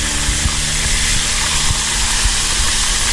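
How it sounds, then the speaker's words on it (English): Seasoned gator meat frying in a pan at a camp cookout, a steady dense sizzle with faint clinks, no talking. "Frying them up, frying them up."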